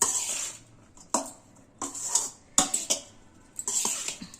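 Spice powder being mixed into rice for vangi bath, with a spoon scraping and clinking against a metal pan in separate bursts amid quiet gaps, close and fairly loud.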